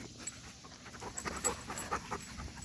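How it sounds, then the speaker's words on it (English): A dog panting quietly and rapidly close by, a soft rhythmic huffing outdoors at a rural property. "look at this dog."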